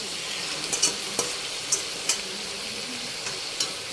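Prawns cook down with spices in a pan on the stove, a steady close sizzle with a handful of light spatula scrapes spaced through it.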